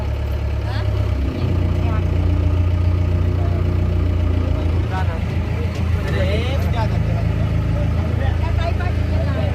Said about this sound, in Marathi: निघाली आपली गाडी